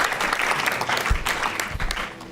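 An audience claps steadily and loudly through a school board meeting, a dense wash of applause from a crowded room.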